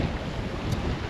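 Wind buffeting a sailboat at sea on a summer passage north, a steady close roar of gusts and water rush with no voices.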